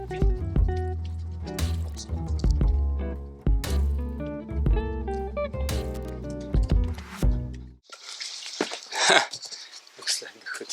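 Water pours and splashes from a tap at the Yavorov mountain hut in Bulgaria's Pirin range: a short burst of running, gurgling water in the final few seconds, after a stretch of music.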